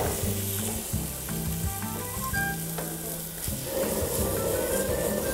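Meat fries in a pan with no oil, sizzling steadily as its fat renders. The hiss stays close and constant, broken by small stirring scrapes, and it grows a little stronger toward the end. No one talks.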